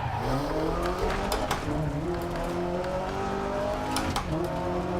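A rally car on a DiRT Rally 2.0 stage revs hard and shifts through gears, its engine note climbing and dropping, with tire scrabble and gravel noise underneath and a few sharp knocks along the way.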